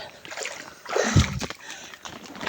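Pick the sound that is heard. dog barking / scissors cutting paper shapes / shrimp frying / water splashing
water splashing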